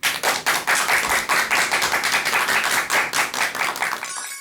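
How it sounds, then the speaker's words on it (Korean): An audience at a lecture claps steadily, a dense patter of many hands, loud and close, fading slightly at the end. "큰 박수 부탁드립니다."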